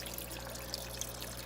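Water drains from an aquaponics grow tub into a 180-gallon Malawi cichlid fish tank, a faint, steady trickle with no pauses.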